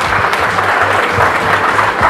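Sustained crowd clapping fills a school graduation ceremony, a dense steady wash of many hands with a low hum underneath, loud and continuous throughout.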